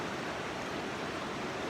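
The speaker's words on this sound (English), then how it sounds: "I chose this place on purpose because I love the sound of running water." Running river water rushes steadily at a relaxing outdoor spot, a continuous broadband hiss with no break or voice over it.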